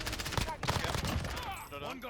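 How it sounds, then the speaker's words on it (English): Rapid gunfire in a first-person video game shooter, dense bursts of shots layered over game effects and ambient noise, with a voice speaking over it. "I'm shooting first."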